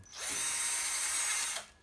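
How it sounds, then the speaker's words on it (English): A high, steady whine of a power drill boring into a plastic Nerf Heart Breaker bow blaster part for about a second and a half, close and loud, then winding down. "Drill it out a little bit."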